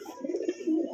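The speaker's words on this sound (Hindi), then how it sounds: "और ये अपना बड़ा कबूतर" A large pigeon in a small home pigeon house gives a brief, soft, throaty coo, close and alone.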